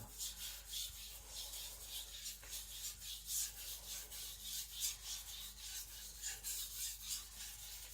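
A Sakon Ryuga gyuto knife is drawn across a Naniwa whetstone, giving steady repeated rasping strokes in a close, even rhythm with no talking.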